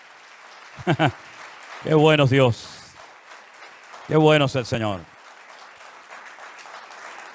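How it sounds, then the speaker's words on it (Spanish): A church congregation applauds steadily throughout, a continuous patter under a voice loudly praising God in Spanish in short bursts. "Fuertes aplausos a nuestro Dios."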